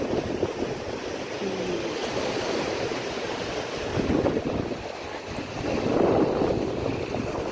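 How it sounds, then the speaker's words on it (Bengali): Sea waves washing ashore at Marina Beach in Chennai, a continuous broadband roar with surges swelling louder near the end, mixed with wind buffeting the microphone and no talking. "আবারও সমুদ্রের কাছে ফেরত এলাম। মেরিনা বিচে রয়েছি আমরা এখন।"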